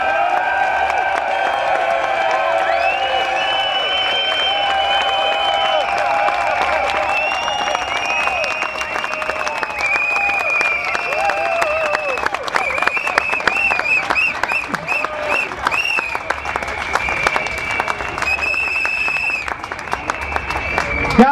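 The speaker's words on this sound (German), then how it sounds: "Jetzt macht man einen Riesenbeifall für die Bauern aus dem Wendland." A large crowd at an anti-nuclear energy demonstration in Hannover claps and cheers for farmers from the Wendland. The applause is sustained and loud, with whistles and whoops mixed in, and voices are heard through it.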